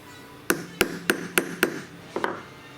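Hammer strikes on a rivet through sheet metal, six sharp metallic blows in a steady rhythm with a slight pause before the last, close and fairly loud, with no talking.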